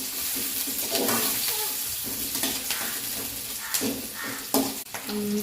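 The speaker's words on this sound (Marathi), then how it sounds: "आणि कांदा पण टाकणार आहे तेल लई टाकले" Onion frying in plenty of oil gives a steady close sizzle, with a few clinks and stirring scrapes in the pan and a brief watery splash near the end.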